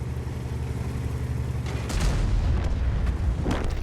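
An artillery shell explosion lands in a tank video game, a deep booming blast after a steady engine rumble, followed by a few scattered impacts and crackles near the end.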